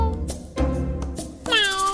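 A cat meows loudly and close, with a couple of short calls early on and a longer, drawn-out meow at the end, set among clatter and other sounds.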